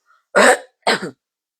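Two harsh chest coughs from a person with a cough lasting several days, close together, near and loud, with a short pause between them and silence around.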